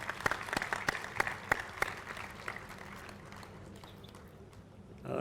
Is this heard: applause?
yes